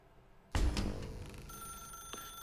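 A telephone in The Stanley Parable: Ultra Deluxe starts ringing abruptly after near silence, a loud metallic bell burst that rings on with a sustained shimmering tone.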